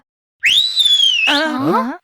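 A loud, shrill two-finger-style whistle by a person, one long rising-then-steady note followed by a lower wavering tail, close and alone with no talk over it.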